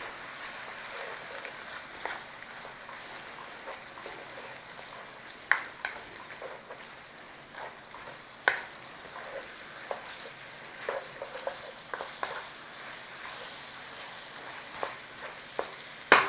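Sauce thickened with cornstarch slurry sizzles and bubbles steadily in a pan on the stove for Chinese takeaway-style Peking chicken, with a continuous frying hiss broken by sharp clicks and pops of stirring.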